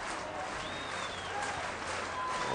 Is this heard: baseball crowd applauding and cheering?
yes